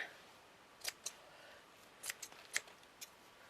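Scissors snip out a paper circle for a miniature witch's kitchen unit, a handful of sharp, quiet cuts in two short bursts with pauses between, close by in an otherwise silent room.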